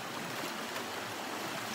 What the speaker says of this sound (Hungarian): Itt a patak partján